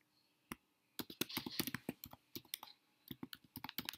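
Bursts of clicky computer keyboard typing while an ad headline is written, quick irregular keystrokes in short runs with brief pauses, close and alone.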